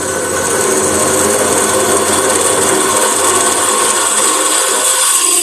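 A wood lathe hollows a lidded box with a carbide tool, a steady, loud scraping whir of the cutter against spinning wood running without pause from start to finish.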